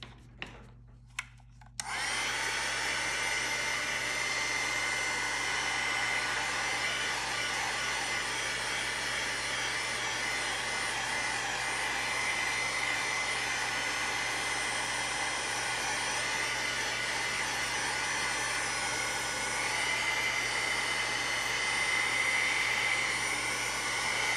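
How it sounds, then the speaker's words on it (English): A heat gun blows over faux leather made from recycled book pages, starting after a few faint knocks and then holding a steady, close whooshing hiss of hot air for the rest of the stretch. "I'm going to just hit this with the heat gun just to get it to where I can touch it."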